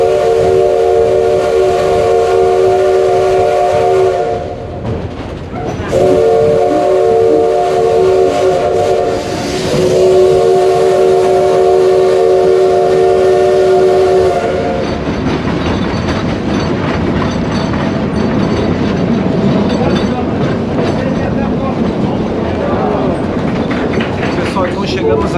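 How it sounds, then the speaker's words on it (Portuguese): A Maria Fumaça steam train pulls a century-old wagon on the Trem Caiçara run from Morretes to Antonina in Paraná, with a loud, steady rolling rumble and rail clatter, a sustained tonal whine through the first half, and voices faintly underneath. "uma hora dentro de um vagão aqui centenário praticamente, né? Maria Fumaça ali do século XVIII"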